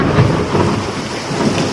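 Heavy rain pours steadily during a monsoon storm, with rumbling thunder rolling beneath it throughout, loud and close.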